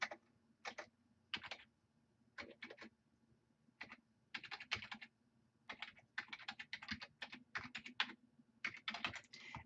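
Typing on a computer keyboard to enter a name on a sign-up form, with bursts of soft, close key clicks separated by short pauses and no talking.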